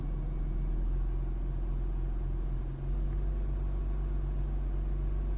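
An Audi A6 C7 3.0 TDI diesel engine holding a steady low rumble near idle around 800 rpm with only a slight lift of the pedal, a constant close drone without talk.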